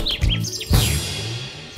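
A cartoon bird in a children's animated show lets out a rapid run of high, bright chirps with rising and falling tweets, loud and close at the start of the clip.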